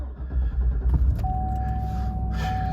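A 2007–2016 Chevy Silverado/Tahoe pickup starts on a freshly programmed key, a close loud rumble from the cranking and catching engine that settles into a steady idle with a faint chime tone over it.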